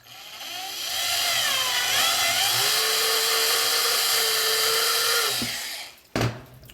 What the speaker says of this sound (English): drill the back hole out